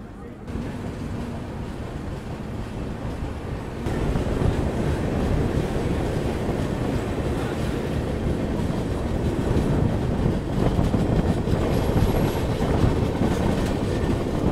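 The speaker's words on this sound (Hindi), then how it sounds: "अपनी ट्रेन का भी डिपार्चर विंध्याचल से हो चुका है" The Indore Howrah Shipra Express rolls on rails, a steady rumbling roar that grows louder a few seconds in, with wheel clatter and faint squeal throughout.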